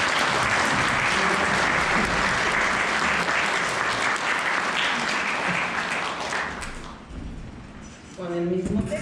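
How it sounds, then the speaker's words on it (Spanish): A dense, loud round of applause fills a university mathematics event hall for about seven seconds, then thins out as a voice begins speaking. "Les pido un aplauso."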